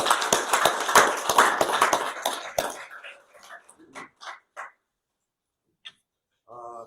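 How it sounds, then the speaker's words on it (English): Applause rings out at a city council meeting, a dense burst of clapping for about three seconds that thins into scattered claps and fades to near silence, fairly distant in a hall. "And then a round of applause for all of you."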